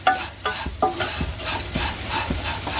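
Poha, flattened rice, being stirred and fried in a pan until crisp, with loud, close, repeated scraping strokes of a spoon over a continuous dry frying crackle.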